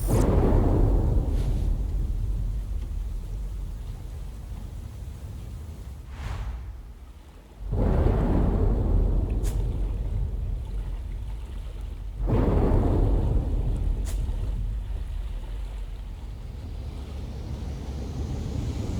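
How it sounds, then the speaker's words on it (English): A thunderstorm with heavy rain in the video game Leisure Suit Larry: Wet Dreams Dry Twice: a steady roar of rain broken by deep rolling thunder swells, with a brief lull before each new crack. "It was a dark and stormy night."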